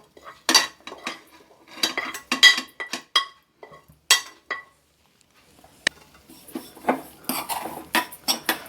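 Sesame, coconut and cardamom are tipped into a pan with a metal spoon, which gives a run of sharp, close clinks and scrapes against the pan, then a pause, then lighter, quicker tapping.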